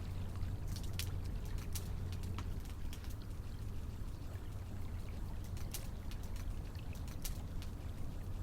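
River water flows by in a steady, soft rushing wash, with occasional faint clicks and drips over a low hum, heard alone at a calm, moderate distance.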